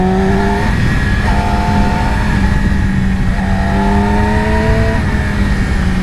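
A 2020 Yamaha R6 600cc sport bike ridden on twisty mountain roads, its engine whining high and loud with repeated rising pitch sweeps as it revs through gears, heard close and alone.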